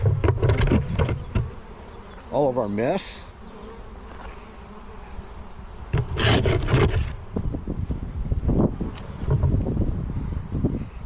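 Honeybees swarm around hives in a bee yard, giving a dense, steady buzz that fills the whole stretch at close range, with a brief voice heard over it.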